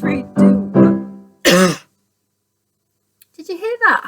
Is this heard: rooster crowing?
no